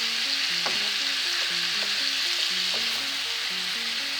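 Ground meat browns in a frying pan with a loud, steady sizzle, and a spoon or spatula scrapes and stirs it now and then. A faint tonal melody plays underneath, and no one speaks.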